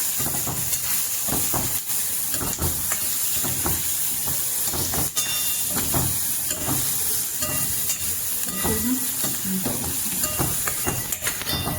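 Onions and capsicums frying in a pan, a constant loud sizzle and hiss with scattered crackles and spatters, close up with no voices.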